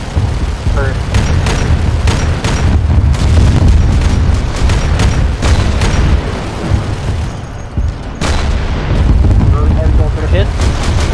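Missile launches and explosions from an Imperial Knight in a video game: a loud barrage of deep booms and sharp blasts, rumbling over a heavy low-end roar, with a brief lull before more impacts.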